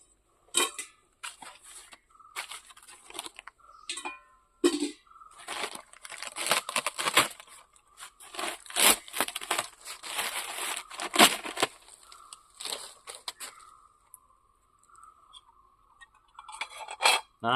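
A plastic rain cover tied over stored items is handled and pulled away, giving bursts of close crinkling and crackling rustles separated by short quiet gaps, with a faint tone lingering in the background.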